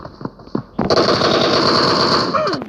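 Rapid automatic gunfire in a first-person shooter video game, a loud sustained burst after a few separate shots and brief clicks, ending abruptly.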